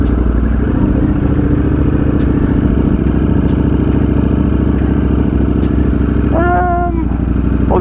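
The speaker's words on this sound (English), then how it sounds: "Angry little motorcycle." A small motorcycle engine runs loud and close with a rough, rapid idle chatter, steady throughout with a brief higher whine near the end.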